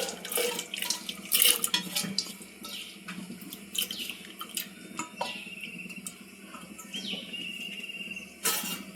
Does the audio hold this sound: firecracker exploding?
no